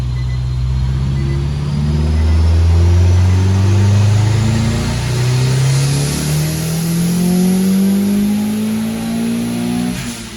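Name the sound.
custom car engine revving during dyno pull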